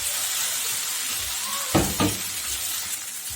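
Mashed potato being mixed into moong dal dosa batter, a steady frying sizzle throughout with a couple of brief scraping stirs midway, close and moderately loud.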